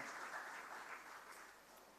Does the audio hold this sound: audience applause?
yes